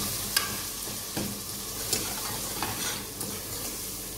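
Coriander-cumin powder and salt being stirred into a hot cooking pan, with a few sharp spoon knocks against the pan over a steady low sizzle, close and moderately quiet, no talking.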